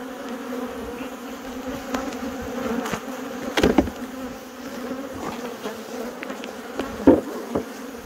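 Many bees hum in a thick, constant drone around a hive on Dartmoor, with a few faint bumps and clicks scattered through.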